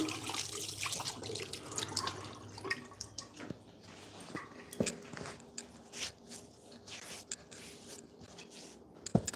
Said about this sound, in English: I'm washing my hands.